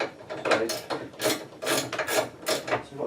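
A spanner turns nuts on a chimney lashing bracket during a TV aerial installation, giving repeated close ratcheting clicks in short bursts with brief pauses.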